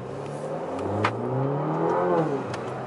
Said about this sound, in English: Let's see the turbo spool.